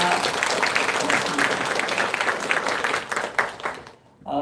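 A church congregation at a Sunday worship service applauds steadily, a dense, even patter of many hands that fades out near the end.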